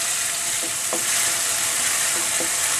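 Ginger and garlic paste fries with softened onion in a pan, a steady close hiss of sizzling with a few soft stirring scrapes, no voices.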